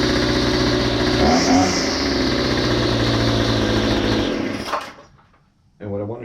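A small tractor engine runs loud and close, its throttle climbing into a higher whine before bogging down and fading out, then briefly restarting at the end.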